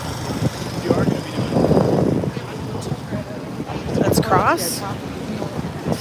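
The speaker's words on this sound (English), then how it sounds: "It's getting a little windy." Gusty wind buffets the microphone on a busy New York City street at 5th Avenue and 42nd Street, with rumbling traffic and nearby voices talking throughout.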